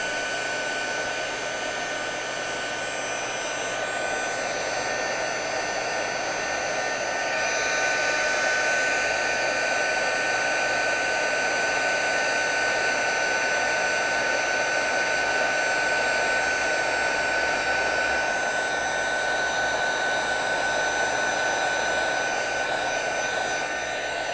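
Heat tool blowing steadily and continuously, melting deco foil onto toner sheets for a fall card; a loud, even airy roar with a faint whine, held close for the whole stretch with no talking.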